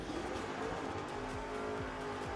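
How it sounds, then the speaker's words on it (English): A drag racing car at a bracket nationals event, with smoke pouring from its side and possible tire rub. The engine roars and revs at a fair distance, moderately faint, with rising pitch sweeps and no speech. "A little bit of tire rub maybe."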